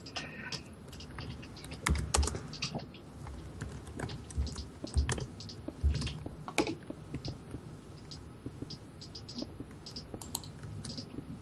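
A computer keyboard is typed on in irregular bursts of light clicking during a Minecraft Egg Wars session, faint and close, over a low background hiss with no voices.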